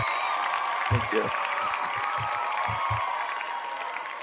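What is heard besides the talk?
audience applause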